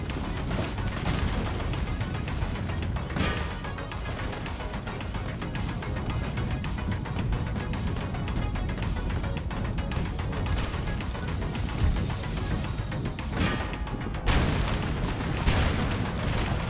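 Quicklime artillery shots firing in the strategy game Total War: Empire, a dense rumbling barrage of distant booms and gunfire under steady battle noise, with a few sharper cracks standing out.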